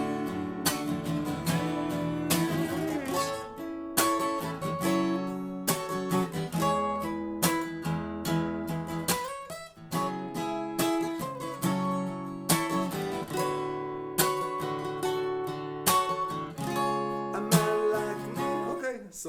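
Electric guitar playing a song solo, a dense run of picked notes and bends over steady backing, loud and continuous with a brief dip near the middle, no talking.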